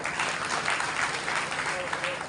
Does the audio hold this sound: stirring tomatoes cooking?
no